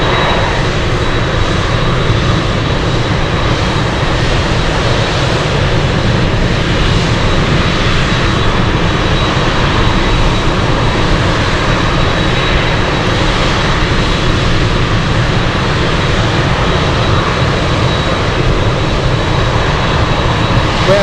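A Boeing 747 Dreamlifter at Anchorage gives a loud, steady jet engine roar that holds broad and unbroken the whole way through, with no voices over it.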